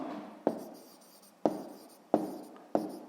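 A pen writing numbers on paper during a sixth-grade maths exercise, four separate scratchy strokes with quiet pauses between, close and soft.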